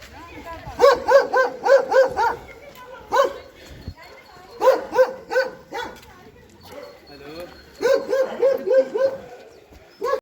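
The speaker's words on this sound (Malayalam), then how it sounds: "എല്ലാ സ്ഥലത്തും പട്ടി" Several dogs bark on a dark hillside path in Georgia, loud close bursts of quick yaps and bow-wows in three clusters with short pauses between them.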